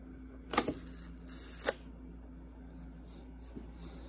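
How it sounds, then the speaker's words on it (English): A Canon IIB rangefinder shutter fires at a one-second setting. A crisp opening click is followed about a second later by the closing click, both close and isolated against quiet room noise. "So the shutter seems to work correctly."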